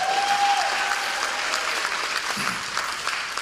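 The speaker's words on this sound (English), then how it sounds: "You can give them a round of applause for that." Steady audience applause at a fall athletic banquet, a dense, even clapping that fills the room without pause.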